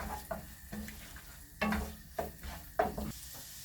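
Chopped ginger and garlic fry in a pot for one-pot chicken masala rice, with a close, steady sizzle broken by a spoon stirring and scraping in several distinct strokes.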